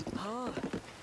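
A horse in a video game, hooves clip-clopping in a quick uneven run of close thuds, with a brief tonal vocal sound rising in the middle, and speech mixed in.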